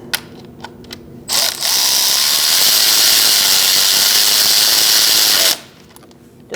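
Power tool tightening knock sensor bolts on a 3.0L V6 engine of a 2008-2014 Mercedes-Benz C300, one loud sustained whir of about four seconds after a few short clicks, then quiet handling noise.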